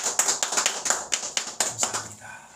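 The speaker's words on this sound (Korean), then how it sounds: "우리 예배 받으신 하나님께 영광의 박수 올리겠습니다." At the close of a Korean church worship service, a congregation claps in a brisk, fairly sparse rhythm of distinct claps for a couple of seconds, with a little voice and a ringing tone behind.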